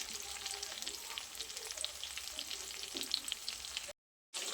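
Stuffed okra (bharela bhinda) cooks in a pan over a low flame, a soft continuous sizzle with faint stirring touches, quiet and close, cutting briefly to silence near the end.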